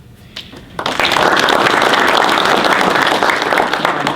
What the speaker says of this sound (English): And that applause is definitely warranted.